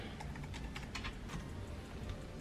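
Quick, light keystrokes on a computer keyboard, a brief patter of several taps close by over a steady low room hum.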